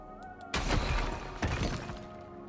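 A sculpture in Honkai Star Rail shatters after being attacked from range, two sharp crashing breaks with scattering debris, fairly close and loud over quiet game ambience.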